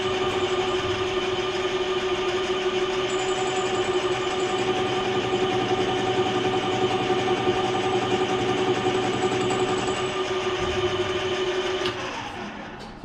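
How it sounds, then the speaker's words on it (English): Metal lathe turning 6mm plate in a workshop: a steady, continuous mechanical hum and whine with a constant motor tone, running evenly for the whole stretch and easing slightly at the end, with no talking. "I've got it in the lathe, and I'm going to turn, that's 6mm plate"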